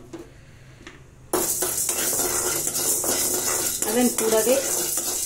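Toor dal and chana dal lentils roasting in a pan for Kanyakumari-style idli podi, with a spoon scraping and clinking against the metal in a steady run of stirring, close and fairly loud, and a short spoken phrase early on.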